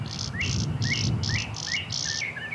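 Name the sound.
clay-colored sparrow singing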